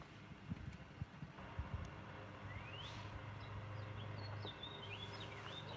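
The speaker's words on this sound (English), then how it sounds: "You can hear all the birds tweeting away." Outdoor birds chirp and tweet in short, thin calls, some rising in pitch, over steady wind noise buffeting the microphone on a mild, breezy day, with a few low knocks early on and no talk.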